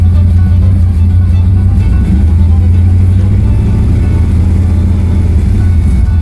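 A Pontiac Firebird engine with freshly changed spark plugs, running loud and close with a steady deep rumble and a slight rise in revs, a voice speaking faintly beneath.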